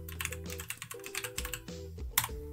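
Close-up typing on a computer keyboard while entering a page slug in WordPress, a quick irregular run of crisp key clicks with short pauses between bursts.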